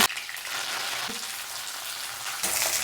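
Moringa (drumstick) leaves fry in hot oil during a tempering of mustard seeds, cumin, coriander seeds, garlic and curry leaves, giving a steady close sizzle throughout with a brief stirring clatter near the end.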